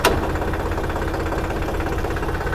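A tractor engine chugs at low revs while reversing off-road, a steady, throbbing mechanical rumble heard close and alone.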